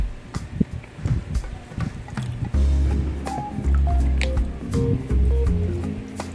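Water poured from a cup into a bowl of corn meal for maja blanca in a home kitchen, giving a close, sloshing pour that keeps running steadily in a few long spells with small clinks and rustles between.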